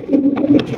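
Low, throaty coos from a large Toy Lahori pigeon, close and fairly loud, a few rolling notes running together over a short moment with no talking.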